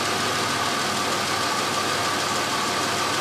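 A cold 2003 Chevrolet Impala engine idles with a steady, even mid-range hum and no break in the sound. The car has an intermittent high-idle fault.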